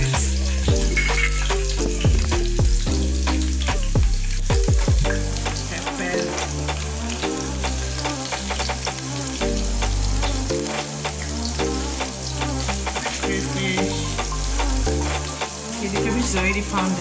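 Onions, pepper and crayfish fry in hot oil for an African dish, giving a loud, steady sizzle with clinks and scrapes of stirring throughout, and no voices.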